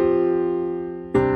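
A piano sustains a rich chord that rings and slowly fades, then a second chord is struck near the end, an add2 voicing on the 1 and 4 in a contemporary worship style, with no voices.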